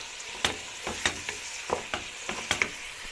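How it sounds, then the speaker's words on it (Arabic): Chopped onion and pepper sauté in a pan for Egyptian stuffed vegetables, giving a steady close sizzle broken by several sharp scraping and clinking stirs at irregular intervals. "هبدا انزل على البصل بالفلفل بتاعي اللي انا مفرطاه كده"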